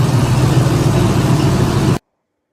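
Muscle car engine with a mild cam, 323 cubic inches, open rear end and C4 automatic transmission, idling with a steady, loopy low rumble, close and continuous for about two seconds before cutting off.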